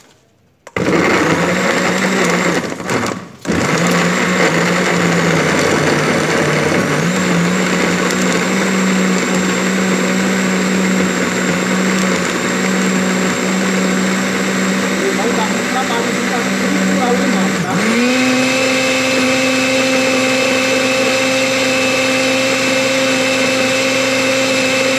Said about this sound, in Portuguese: Agora nós vamos colocar para bater